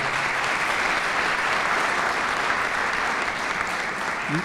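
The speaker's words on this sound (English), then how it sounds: "How about a round of applause?" An audience applauds police and fire department members at a Mayor for the Day ceremony, a steady dense wash of clapping that holds evenly throughout with no voices over it.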